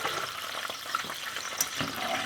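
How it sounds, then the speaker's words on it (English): Sauce bubbling gently in a pan, a soft, steady crackle and fizz with small pops, quiet and close, with no voices. "I'm going to let that start to bubble just a little bit"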